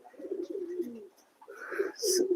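Pigeons in a racing pigeon loft coo softly and close by, two throaty rolling coo phrases with a short pause between, including a Giribaz pigeon during mating, with no talking.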